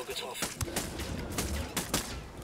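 Gunfire in the tactical shooter Ghost Recon Wildlands, a run of sharp, punchy shots and bursts over a busy, rumbling battle backdrop, heard fairly loud throughout.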